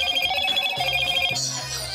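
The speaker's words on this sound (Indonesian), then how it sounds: "ada gamelan Bali juga nih ringtone-nya." A Moto G45 phone plays a Balinese gamelan ringtone, with bright, repeating metallic chime tones that are short and moderately quiet.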